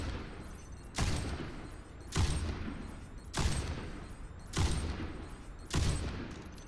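Widowmaker's sniper rifle in the video game Overwatch fires five evenly spaced shots roughly a second apart, each a sharp loud crack followed by a brief fading tail, with no talk.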